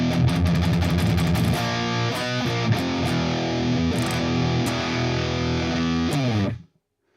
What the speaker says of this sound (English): I'm just looking for some high gain stuff.